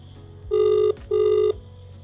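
A phone call rings back through the earpiece: two steady electronic tone bursts, each just under half a second, with a short gap between, loud and close with no talk.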